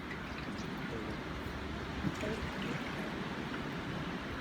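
Sugar water is poured into a bee feeder outdoors, a faint steady trickle of liquid running continuously for a few seconds with a brief louder splash near the middle.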